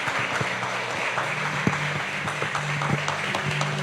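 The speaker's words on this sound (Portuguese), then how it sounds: "Ô glória, pode aplaudir mais forte." A church congregation applauds steadily, a dense wash of many hands clapping that stays loud and even throughout, with no one talking.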